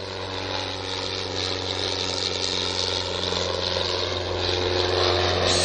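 A propeller aircraft comes in to land in a 1968 Thunderbirds film: a steady, loud engine drone with a low hum that swells slowly over the whole stretch, with no voices.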